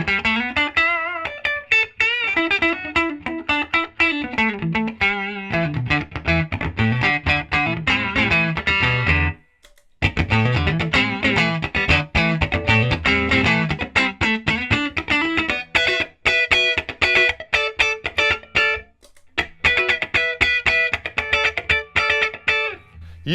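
Electric guitar played through a Fender '68 Custom Deluxe Reverb tube amp, a loud distorted melodic passage of picked notes and sustained chords with a couple of brief pauses.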